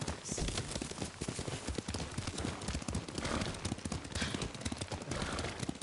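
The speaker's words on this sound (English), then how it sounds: "Lord Sakai taught me to ride a horse." Horse hooves from Ghost of Tsushima clip-clop in a quick, steady rhythm while riding, loud and close throughout with dense gameplay noise around them.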